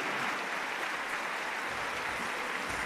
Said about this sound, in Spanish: Muchas gracias, un fuerte aplauso.